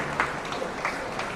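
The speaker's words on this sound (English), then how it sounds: "Let's give a round of applause to Dr. Sanjay" Audience applause at a disability association award ceremony, a brief patch of steady clapping from a crowd with a few sharper claps standing out.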